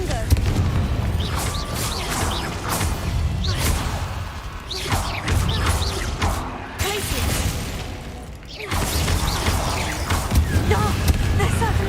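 Confringo explosive spell blasts in the video game Hogwarts Legacy, loud booming impacts and whooshes that repeat through a busy combat mix, with a short dip before the blasts resume.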